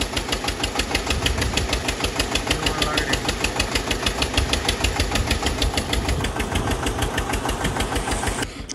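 A steady, rhythmic thumping water pump engine runs continuously at close range, a mechanical chugging beat that holds throughout.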